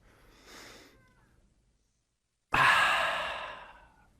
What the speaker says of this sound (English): Breathing in